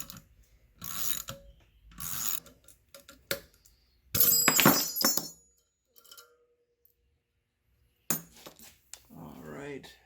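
A ratchet on a bolt in a V8 engine cylinder head during head assembly on a Fiero: several short bursts of clicking and metallic rattles separated by silent gaps, close and fairly quiet.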